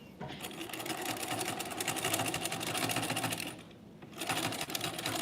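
A sewing machine fitted with a specialized presser foot stitches steadily, tacking down a seam allowance in a near, continuous whirring run with a brief pause before it starts up again.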